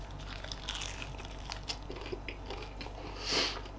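Someone bites into and chews a cheese-crusted quesadilla up close, with quiet crunchy bites and moist chewing repeating through the moment, no talking.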